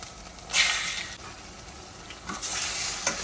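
Mutton fries with onions in a pan for Telugu mutton drumstick curry, a hissing sizzle that flares loudly when stirred, eases off, then surges again near the end.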